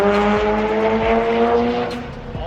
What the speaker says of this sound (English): that was an RX-7 3rd gen